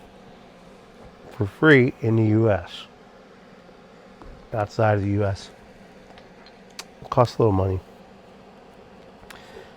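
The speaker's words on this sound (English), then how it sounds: "That noise you hear in the background is my air purifier." An air purifier running in a workshop: a faint, steady whirring hum that continues under someone speaking in three short phrases.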